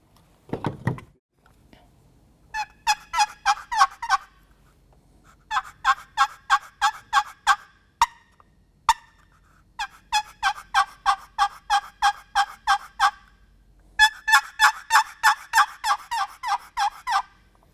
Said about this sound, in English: If you're trying to make those soft, subtle yelps, dampen the vibration on the sideboard of that call